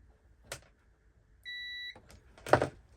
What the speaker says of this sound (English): I'll just check that with our multimeter to make sure it is okay.